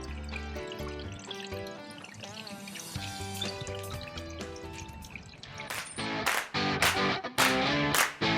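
Water trickles and drips into a pond pump box, with uneven splashing and pouring that grows louder and more broken toward the end, close by and with no talking.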